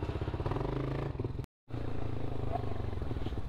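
A motorcycle engine runs at a steady idle with a regular low pulsing, one of three bikes just refuelled for the ride back to Dhaka. The sound cuts to silence for a moment midway before the engine resumes.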